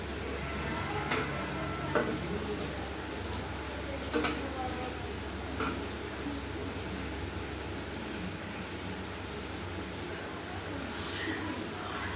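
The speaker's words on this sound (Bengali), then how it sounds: "হাতে একটু ঘি লাগিয়ে নিয়ে এইগুলো এটা একটু সাইজ সাইজ করে নিচ্ছি, দিয়ে তেলে ছেড়ে দিচ্ছি" Ghee-greased, hand-shaped dough pieces frying in hot oil in a village kitchen, a steady close sizzle with occasional sharp crackles and ticks running throughout.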